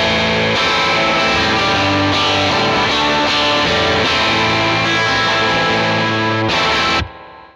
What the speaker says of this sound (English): Or you can really gain it up to get those heavier tones.